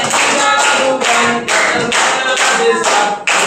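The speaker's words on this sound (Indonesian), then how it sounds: "bersama-sama kita tepuk tangan." Hand clapping from a group singing a Malay action song together, a dense run of steady claps filling the whole stretch over a backdrop of singing voices.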